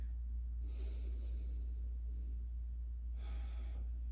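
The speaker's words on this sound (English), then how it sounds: "Take one more breath here." Two soft breaths during a gentle yoga flow, each a brief airy exhale about a second long, separated by a quiet pause over a steady low hum, close and faint.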